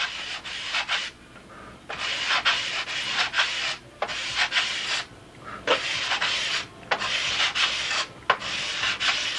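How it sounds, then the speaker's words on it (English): Steady back-and-forth rasping of a sanding block on wooden model aircraft ribs, strokes repeating in quick rhythm with brief pauses between passes, close and fairly loud. "Now all that's left to do is a final sanding here."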